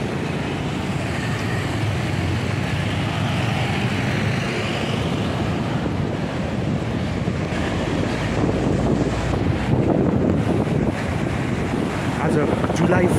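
Floodwater of the Tinau river in Butwal rushes past in a continuous loud roar, steady throughout and buffeted by wind noise on the microphone.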